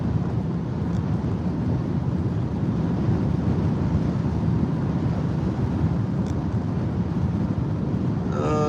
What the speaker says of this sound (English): Now we hear that wind picking up now.